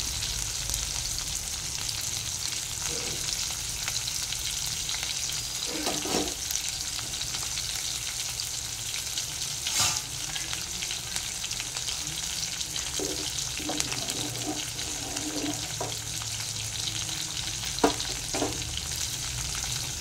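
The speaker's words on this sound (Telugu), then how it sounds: "ఈ బొమ్మిడి చేపలను ఫ్రై చేసుకోవాలి. ఇలా వేయించుకుంటే" Bommidi fish frying in oil in a pan, a steady faint hiss and crackle of sizzling throughout, with occasional soft clinks from the pan and utensil, no voices.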